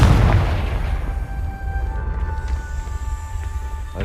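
Confringo spell explosion in the video game Hogwarts Legacy, a deep booming blast at the start that rumbles and fades, with a faint tonal ring lingering behind it.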